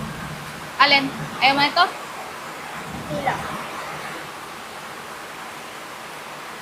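Steady rain falls in a soft, even hiss throughout the afternoon, with people briefly talking over it.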